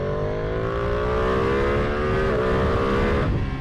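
A Ducati Panigale V2 motorcycle engine ridden in street mode, a loud, close droning note that climbs steadily in pitch as it accelerates, with a brief shift partway through and no talking.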